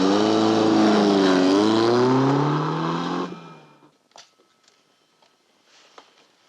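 A car engine revs loudly up close in a classic 1960s British TV drama setting, the pitch rising and wavering, then fading quickly as the car drives away. Faint scattered clicks and footsteps follow in near quiet.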